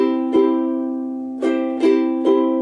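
A ukulele chord rings, then a few quick strums follow in a rolling three-stroke pattern, close and bright.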